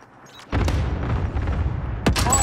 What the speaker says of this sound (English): Enemy cluster strike! Watch your heads!